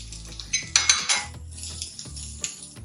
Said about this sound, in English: once the oil is hot, I'm going to add onions and carrots into it